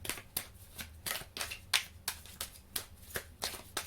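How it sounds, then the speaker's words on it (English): A deck of road trip oracle cards is shuffled by hand in a steady rhythm of soft riffling bursts, roughly three per second, close and fairly quiet with no voice over it. "I'm going to shuffle and drop a few road trip oracle now for you guys."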